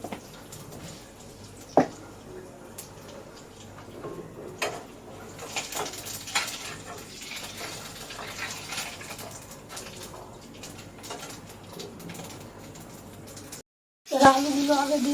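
Cumin seeds added to hot oil in a wok (kadai) sizzle with a steady, faint crackle, a few soft clinks of a utensil, and a louder burst of sizzling near the end.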